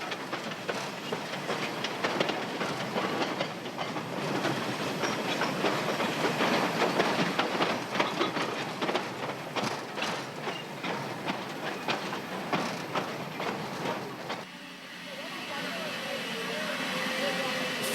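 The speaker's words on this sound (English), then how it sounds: "the train to nowhere reaches the end of its run" A train rumbles and clatters along the rails in Burma, rhythmic clicks over a steady hiss, then slows and quiets as it comes to a stop at a small terminus.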